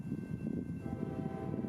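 A CSX local freight train rumbles past the old Seaboard depot in Lutz, Florida, a low, steady rolling drone with a faint sustained tone above it, heard alone without voices.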